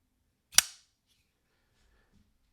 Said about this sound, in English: And then here it is in the reverse flick.